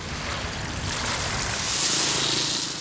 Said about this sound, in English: You can even meditate to the rhythmic lapping of the waves.